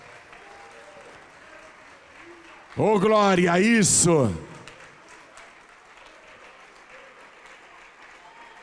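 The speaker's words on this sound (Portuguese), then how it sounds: "Vamos aplaudir mais ao nome de Jesus." A church congregation applauds at a worship service in a low, steady patter while a voice cries out loudly for about a second over the clapping.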